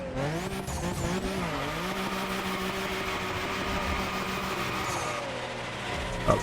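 Turbocharged V6 JDM engine on a Honda in The Crew Motorfest racing game, droning steadily with shifting pitch through acceleration, tire squeal and skidding, loud and up close throughout.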